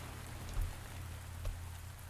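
Steady rain falls in the farming game Pumpkin Days, a constant soft hiss of drops with a low rumble and a couple of slightly heavier patters, no voices.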